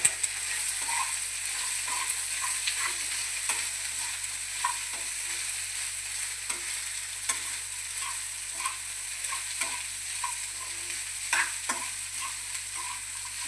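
Chopped ingredients fry in a pan and are stirred and mixed, with a constant sizzle under repeated scraping and tapping of a spoon at irregular intervals, close by, with no one speaking.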